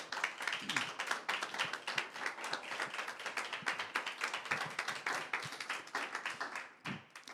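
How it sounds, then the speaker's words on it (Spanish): A church congregation applauds during a Sunday sermon, a steady rapid patter of many hands clapping at close range that carries on for several seconds before thinning out near the end. "Le damos un aplauso al Señor."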